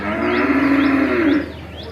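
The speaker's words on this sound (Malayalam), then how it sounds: "ഈ എരുമക്കന്ന് പറഞ്ഞാണ് ഇടിമാളു" A buffalo calf at a Vishu-day cattle market gives one loud, close, drawn-out moo lasting over a second, then fades into a steady background murmur.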